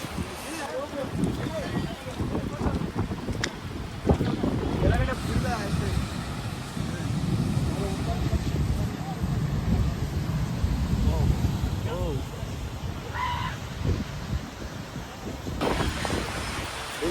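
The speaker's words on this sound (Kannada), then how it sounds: "ಮಳೆ ಬರ್ತಾ ಇದೆ." Rain falls steadily with gusting wind at an outdoor spot in Singapore, a broad continuous wash of noise that holds across the whole stretch, with faint voices now and then beneath it.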